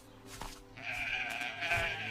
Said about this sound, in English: The fluffy white sheep eats grass on the hill.